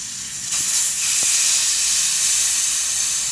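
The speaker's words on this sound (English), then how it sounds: "Be sure to let that pressure go down before you pull the valve core" Air hissing steadily out of the tire valve on a Kaabo Wolf Warrior 11 scooter, starting abruptly and continuing loud and close with no talking.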